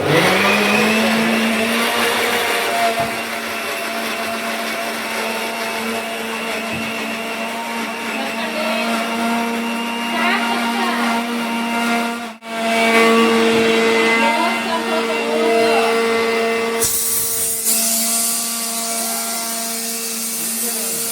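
A kitchen mixer grinder runs steadily at close range with a loud, sustained electric whine and churning, briefly dipping once midway before carrying on at full speed, with no talking over it.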